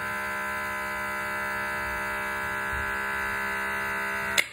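A small facial suction vacuum's motor whirs with a steady, loud buzzing hum, unbroken for several seconds before a sharp click at the end.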